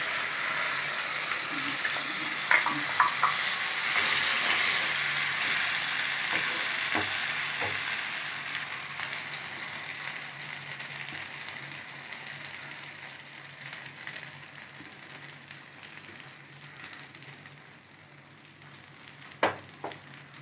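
Ground masala paste for an egg masala gravy fries in a pan, a steady broadband sizzle loudest at first and slowly easing, with a few soft stirring clinks and a sharp tap near the end.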